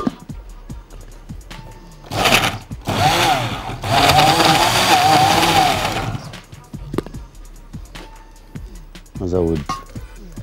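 A blender whirs loudly for about four seconds, blending coffee into a milkshake, with a rising, strained motor tone. Brief voice sounds and kitchen clatter surround it before and after.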